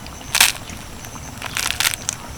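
Several sharp, dry crunches as a crispy fried pumpkin-leaf roll is broken apart close up, a single snap followed by a quick cluster of crackles.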